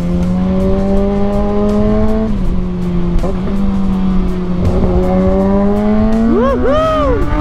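A big bike motorcycle engine hums loud and close while riding along Marcos Highway, its pitch holding steady, dipping with gear changes, then rising sharply in quick revs near the end, with wind noise throughout.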